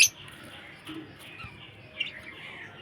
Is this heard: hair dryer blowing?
no